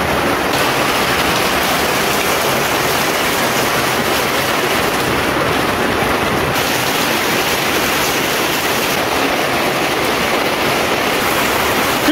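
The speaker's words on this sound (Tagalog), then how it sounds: "Ang lakas ng ulan." Heavy rain pours down steadily on a rural farm, a loud, dense and continuous wash of water close by with no letup and no voices.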